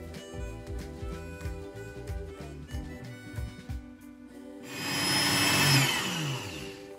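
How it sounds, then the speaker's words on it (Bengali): Electric blender grinding homemade haleem masala spices, starting with stop-start pulses of motor whir, then breaking into a loud, steady high-speed grinding run near the end. "এবার আমি একটা ব্লেন্ডারে মশলাগুলোকে ঢেলে ব্লেন্ড করে নেব।"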